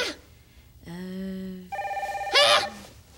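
A telephone bell rings indoors in a few sustained tonal bursts, loud and close, with a brief voice and other sounds between the rings.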